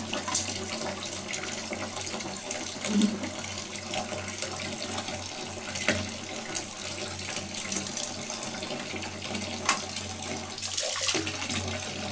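Water runs steadily from a tap into a bathtub, a continuous splashing rush with small gurgles and a few soft knocks, close and unbroken throughout.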